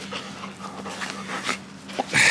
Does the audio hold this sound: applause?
no